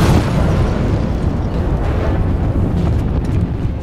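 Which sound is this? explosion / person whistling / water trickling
explosion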